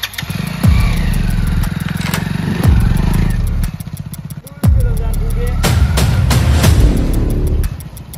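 A motorcycle engine runs steadily and loud close by, with clattering knocks and surges as it pulls away, while people talk over it.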